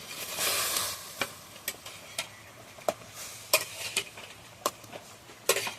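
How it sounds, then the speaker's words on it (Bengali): Water boils hard in a cooking pot, ready for bhola fish to be poached for cutlets: a close, steady bubbling hiss punctuated by sharp pops and clicks. "গরম জল ফুটছে"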